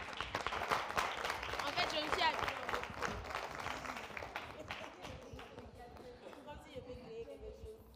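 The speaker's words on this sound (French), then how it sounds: "On peut les applaudir, s'il vous plaît." A crowd breaks into loud applause, dense clapping that gradually thins and fades, with voices chattering underneath.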